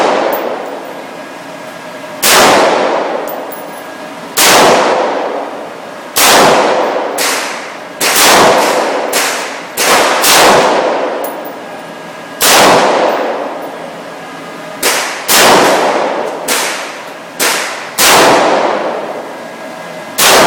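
Loud AR-15 rifle shots ring out one after another at an outdoor range, about a dozen sharp cracks with decaying echoes, spaced unevenly from a couple of seconds apart to quick pairs.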